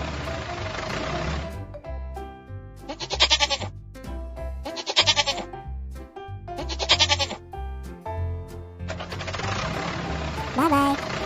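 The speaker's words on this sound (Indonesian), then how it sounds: "Goat. Kambing." Goat bleating in a cartoon zoo-truck animal scene, several loud, wavering bleats in a row separated by short gaps, over a bouncy musical backing, with a final bleat near the end.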